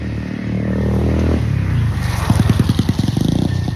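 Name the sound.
motorcycles passing by on the road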